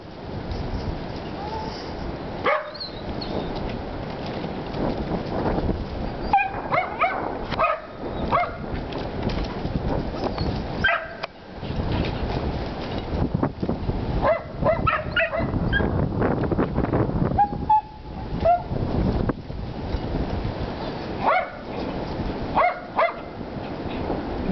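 Dogs bark and yip in short bursts, close by at an animal den, with whimpering between, over a constant background hiss.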